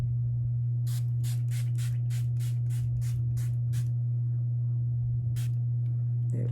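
A rapid series of about ten short sprays of makeup setting spray hisses in quick succession, then one more spritz after a pause, over a steady low electrical hum.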